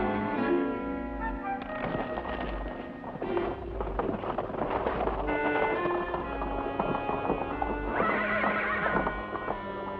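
A horse whinnies loudly and repeatedly while hooves clip-clop steadily throughout, set on a ranch in a Western drama, with the neighs rising prominently above the hoofbeats near the start and again toward the end.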